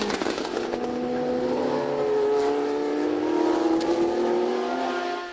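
A 1976 Inaltera race car, driven by Henri Pescarolo at the Le Mans Classic, runs with a loud sustained engine drone whose pitch climbs gradually, heard close and alone.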